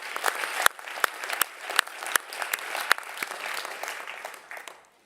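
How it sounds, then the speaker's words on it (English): Audience applause at a closing ceremony of the UIA Florence Congress 2014, a sustained round of clapping with sharp individual claps popping out, fading at the end. "may I ask a second round of applause"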